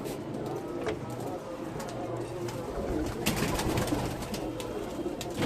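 Pigeons coo in a loft where young birds are being flown and trained, a steady soft murmur of cooing with faint background noise throughout, and speech may be faintly present.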